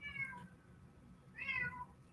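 Two drawn-out meows from a house cat, one near the start and another about a second later, each clear against a low background hum with no talk.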